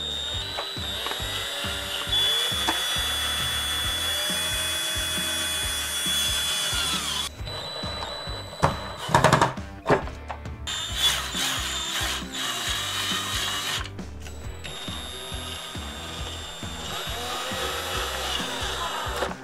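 A power drill bores holes into a wooden solar dehydrator box, giving bursts of close, loud grinding and ratcheting whir broken by short pauses and clunks of the wood being handled.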